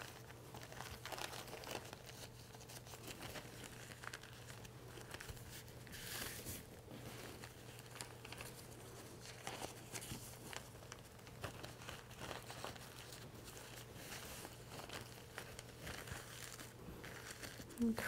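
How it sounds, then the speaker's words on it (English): Paper being folded and creased for an origami kimono: soft, continuous crinkling and rustling close by, with occasional sharper crackles as the edges are pressed, under a steady low background hum. "I'm going to fold these edges to the center."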